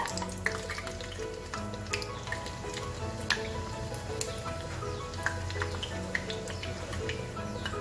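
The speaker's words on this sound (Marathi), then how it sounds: "ब्राऊन रंगावर छान परतून तळून घेऊ आपण" Thalipeeth bhajani vade, puffed savory fritters, deep-frying in hot oil, giving a steady close crackling sizzle with scattered sharp pops and faint clinks across the whole stretch, with no talk.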